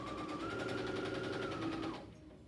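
A home sewing machine runs a straight seam through fabric for a face mask, a steady, close mechanical whirr of rapid stitching for about two seconds before it stops.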